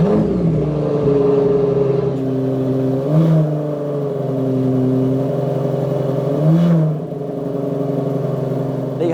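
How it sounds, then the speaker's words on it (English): The Aston Martin Valiant's engine idles loud and close with a strong steady drone, rising into two short revs partway through and settling back between them, no talk. "me getting inside, switching it on, you hearing the engine."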